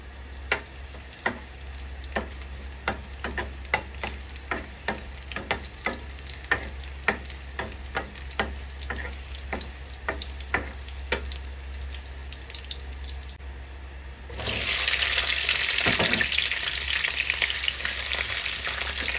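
Ridge gourd stir-fried with pork in oil: a run of regular spatula knocks and scrapes against the pan over a low hum, then a loud sizzle suddenly bursts in near the end.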